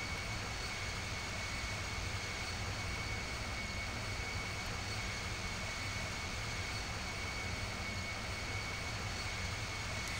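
Steady airplane engine roar in the flight simulator Infinite Flight during turbulence, a continuous broadband hum with a constant tonal whine, unchanging throughout.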